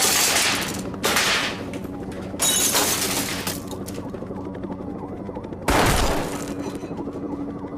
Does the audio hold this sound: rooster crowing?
no